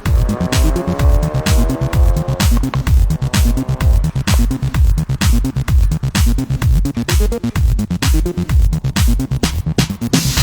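A Ford Focus RS, whose four-cylinder engine makes 350 horsepower, drives on the road; a loud, steady engine roar with rapid rhythmic pulsing and tire noise runs throughout, close and continuous.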